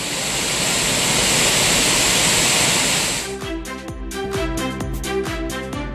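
Water from Courtallam's main waterfall in Tamil Nadu pours down as a loud, dense, steady roar. After about three seconds it gives way to a choppy run of rhythmic clicks and beats.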